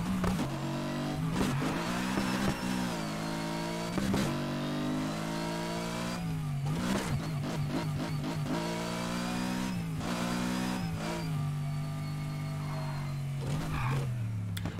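A car driven in the Need for Speed Heat racing game, its engine droning and revving continuously at close range with repeated gear changes and rises and falls in pitch across the whole stretch, without speech.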